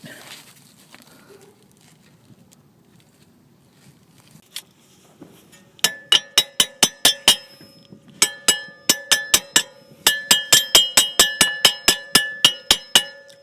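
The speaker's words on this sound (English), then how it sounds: "Just try to guide it with a hammer." Quiet rustling at first, then a hammer taps a BMW E36 trailing arm bushing into a tight fit in quick, ringing metal bursts, sharp and close, with a brief pause between groups of strikes.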